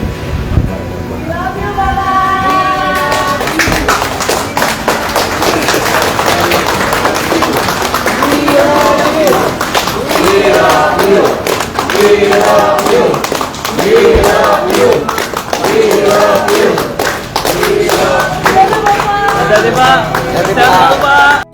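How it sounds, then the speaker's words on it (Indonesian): Staff applaud as minister Basuki walks to his car, with dense, continuous clapping from a nearby crowd mixed with babble and voices, sustained and loud throughout. "Kepergiannya menuju mobil diiringi tepuk tangan dan kalimat, "We love you.""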